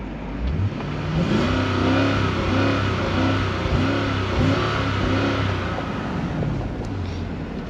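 A Lexus GS460 V8 engine, just back running after a valley plate gasket repair, revs up repeatedly, several close, loud rising and falling throttle blips over a steady idle.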